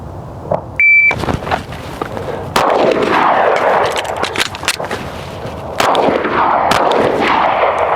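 Gunfire at an outdoor shooting range during a drill with a reload: a few loud, sharp shots near the start, then two heavy blasts a few seconds apart, each ringing out with a long echo, plus a brief beep from a timer.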